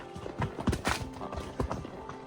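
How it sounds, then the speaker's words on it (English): A trail horse's hooves clip-clop over a forest trail, stepping over a dead log, with uneven close footfalls and scuffs against a steady outdoor background. "This is when you're glad you got your really good trail horse with you."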